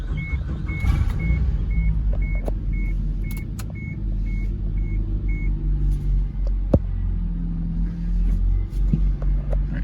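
A Suzuki Tracker's engine turns over and settles into a steady low rumble, with a faint electronic warning chime beeping at regular intervals over it, heard from inside the car.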